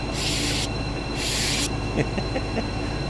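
A BR218 diesel locomotive in a train simulator on the Birmingham Cross City Line, arriving at a station with two loud hissing bursts like an aerosol spray over a steady engine rumble, followed by faint clicks.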